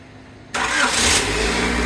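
A Honda Civic engine cranks and catches after half a second of quiet, then settles into a steady, loud idle that carries to the end.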